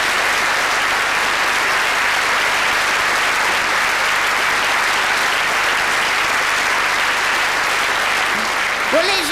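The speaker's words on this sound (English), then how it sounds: "I cannot thank Trish with a round of applause, but you can, so please give it to Trish" A theatre audience at a live comedy show gives sustained applause, a thick, even wash of clapping that stays loud and constant for the whole stretch, with a faint voice surfacing at the very end.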